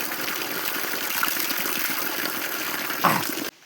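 Natural water pours and gushes steadily in a village setting, a continuous splashing rush with a brief louder surge near the end before cutting off abruptly.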